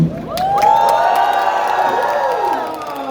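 Audience at the Hong Kong Comic-Con 2026 opening ceremony cheers and whoops loudly, with scattered shouts and clapping rising in a sustained, close burst that holds steady for several seconds.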